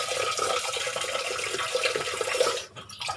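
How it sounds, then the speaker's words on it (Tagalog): Rice is washed under running tap water, with a steady close splash and swirl that cuts off abruptly near the end. "isang hugasan lang para hindi mawala yung vitamins ng rice"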